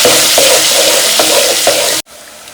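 Large potato chunks frying in spiced tempering oil give a loud, steady sizzle with stirring scrapes at intervals, then cutting off abruptly near the end.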